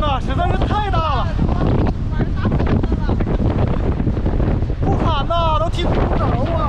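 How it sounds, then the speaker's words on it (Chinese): Strong seaside wind batters the microphone with a constant loud roar, mixed with surf near a harbour full of boats, while someone shouts over it and birds call briefly. "外边这风啊，实在是太大了"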